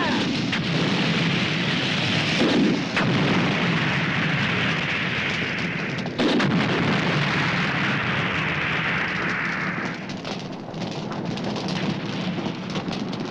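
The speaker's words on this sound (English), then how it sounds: "They just turn up and blow it up with RPGs." Movie action scene of RPG rocket launchers blowing up a building, heard as a dense continuous roar of explosions and rumbling debris with a couple of sharper blasts, loud and sustained throughout.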